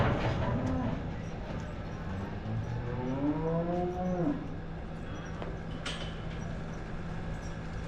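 At a reined cowhorse show, a cow gives a long, loud, drawn-out moo close by. A lower bellow starts it off and a second call trails after, over steady arena background noise, with no voices.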